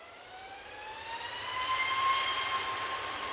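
A TUI jet airliner taxiing out for takeoff at Manchester Airport, a steady whining engine tone rising slightly in pitch over a low rumble, moderately distant and alone without voices.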